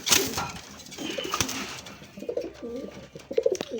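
Old-breed local deshi or Raj Golla pigeons give deep, throaty cooing calls in repeated bursts close by, with faint rustling between calls and no talking.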